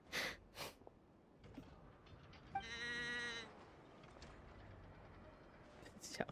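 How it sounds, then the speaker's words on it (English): A sheep bleats in a video game, one wavering harmonic cry near the middle, amid ambient game sounds and brief bursts at the start and end. "Sounds like a sheep"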